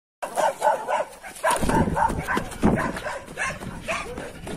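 A dog barks repeatedly in short, close bursts, with some yips and whimpering mixed in over a few seconds.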